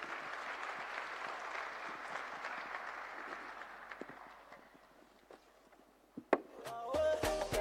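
Audience applause at a youth conference, moderate clapping that gradually fades over several seconds before a burst of handling noise and a tonal sound at the end.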